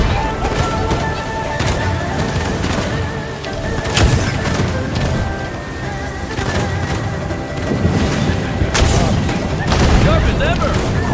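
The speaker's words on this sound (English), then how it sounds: "They even brought out the fire cannons!" Fire cannons go off in repeated heavy booms and crackling blasts amid a busy battle din, with people talking over the loud, continuous barrage.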